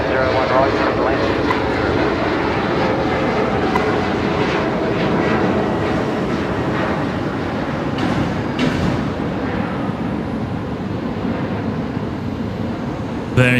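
An airliner landing on runway 01 right at Brisbane Airport, a loud, sustained roar of jet engines that holds steady close by for the whole stretch, with a voice talking over it.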